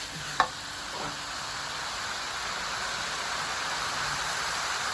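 Straw mushrooms and glass noodles stir-fry in a pan under a constant, even sizzle, with a single utensil clink near the start and no voices.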